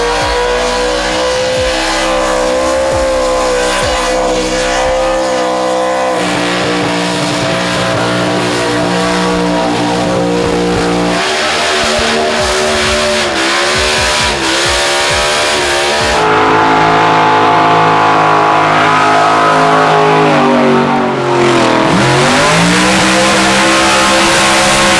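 A car does a burnout at an Australian burnout contest, its engine screaming and revving hard with shifting pitch and bursts of tire squeal. The noise is loud and sustained throughout, with no talk.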